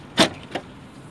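A car's rear hatch pops open with a sharp click followed by a softer second thump, close by, with no talking.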